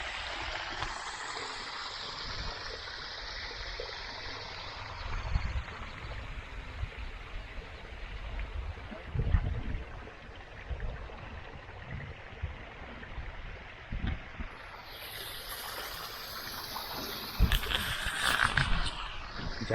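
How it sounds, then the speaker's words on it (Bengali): Artificial waterfall in a landscaped park in Ziro, Arunachal Pradesh, giving a soft, continuous rush of falling water at moderate distance, steady with small fluctuations. "কি সুন্দর একটা আর্টিফিশিয়াল এখানে ঝর্ণা বানানো হয়েছে।"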